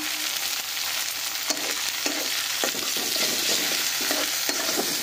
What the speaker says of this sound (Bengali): টমেটোটা দিয়েও একটু ভালো করে নাড়াচাড়া করে নিচ্ছি